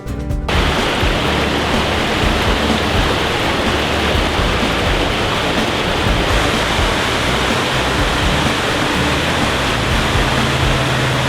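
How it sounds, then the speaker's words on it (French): Waterfall at the Cascade des Combes near Saint-Claude in the Jura in summer: a steady, loud, broadband roar of falling water that continues without a break for the whole stretch, with no voices. "Derrière moi, une magnifique cascade, la cascade des Combes, près de Saint-Claude dans le Jura."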